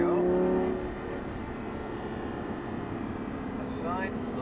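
A Lamborghini Gallardo Superleggera on a track, its engine droning and revving as it accelerates out of a turn, with a tonal note at the start and a steady cabin rumble beneath an instructor's brief speech.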